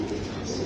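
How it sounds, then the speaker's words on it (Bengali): Racing pigeons in a loft, a short, soft, low cooing burble close by over a steady background hum. "দেখার মতো কবুতর, দেখার মতন কবুতর"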